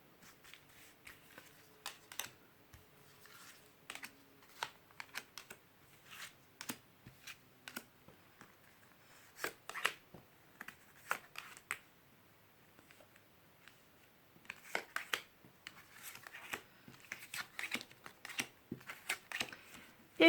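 Lenormand cards laid out over a tarot spread, with quiet scattered taps, flicks and card slides coming in irregular clusters, close and soft against a near-silent background.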